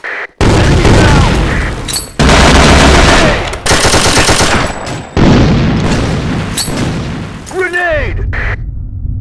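Loud gunfire and grenade blasts from a sand storm shooter game come in dense bursts of rapid shots and booms, broken by short silent gaps, with shouting voices over the battle.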